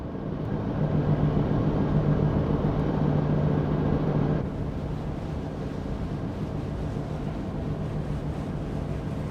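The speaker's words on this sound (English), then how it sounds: "You can hear the wind and the waves." Wind and ocean waves at sea in a ship simulator, away from the engine: a continuous rushing, surging wash that drops noticeably in level partway through, then carries on steadily.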